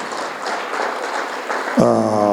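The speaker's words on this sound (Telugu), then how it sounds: "మరొకసారి మహాశివరాత్రి గట్టిగా చప్పట్లతో అభినందన తెలియజేసుకున్నాం." An audience at a Maha Shivaratri event applauds loudly in a dense, continuous wash of clapping that ends as a sustained musical tone enters.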